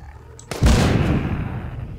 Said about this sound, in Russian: Сейчас будет фейерверк.